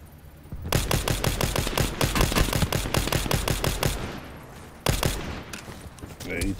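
Rapid automatic gunfire from a video game rattles in long, dense bursts, a brief pause, then another burst resumes, loud and close with voices faintly underneath.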